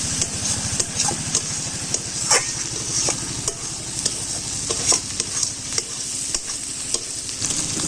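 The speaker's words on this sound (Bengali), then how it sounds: "এবারে ভেজে রাখা চিংড়িগুলো দিয়ে আরেকবার কষিয়ে নেব" Fried prawns being stir-fried with spices in a pan over low heat, a continuous close sizzle punctuated by repeated rhythmic scrapes and taps of a spatula against the pan, with no talking.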